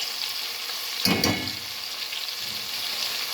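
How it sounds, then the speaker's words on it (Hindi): Spices, including crushed red chili, frying in a pan for sarson ka saag, a steady bright sizzle throughout with a louder burst as a spoon stirs them once, heard close and alone. "और साथ ही हमने चमचा लाते रहना है। मसाले को अच्छी तरह भूनना है।"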